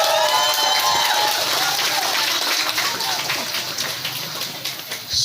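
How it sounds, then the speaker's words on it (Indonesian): Dense crowd applause at a school event that starts full and gradually thins out, with a few whoops early on before the clapping tapers. "Tepuk tangan kita semua."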